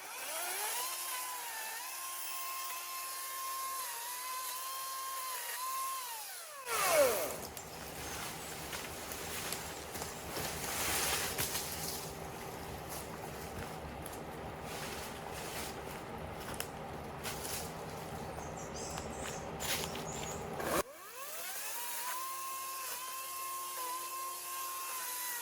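A chainsaw roars continuously for about fourteen seconds while cutting loose branches off a storm-damaged tree, with a quieter idling engine before and after the cut.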